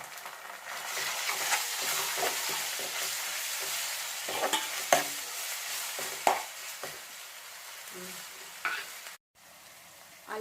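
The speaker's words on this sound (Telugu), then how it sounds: "అల్లం వెల్లుల్లి పేస్ట్ అండ్ పసుపు కొంచెం ఫ్రై అయిన తర్వాత" Ginger garlic paste and turmeric fry with onions in a pan for cauliflower curry, giving a steady close sizzle broken by scraping stirs and small clacks. The sizzle dips briefly near the end, then resumes.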